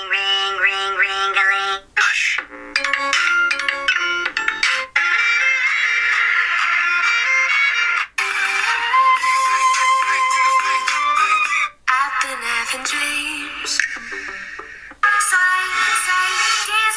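Music plays loudly from the single speaker of a Cubot X20 Pro smartphone at maximum volume, a continuous melodic track with brief gaps between segments, and no one speaks.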